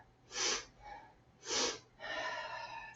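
Two sharp, forceful sniffing breaths taken through the nose during a Pilates mat twist, each short and close, followed by a softer, longer exhale, with no talking.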